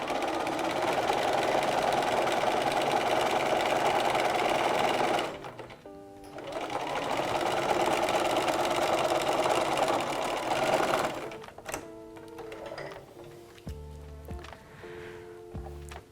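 A sewing machine runs a seam in two long continuous stitching bursts with a short pause between them, a steady close mechanical whir, then stops into quieter clicks and handling noises.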